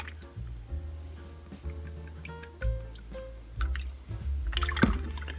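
Coconut aminos poured from a quarter-cup measure into a bag for a marinade in a home kitchen: soft liquid trickles and drips mixed with light clinks and plastic rustling, close and fairly quiet, with no talking.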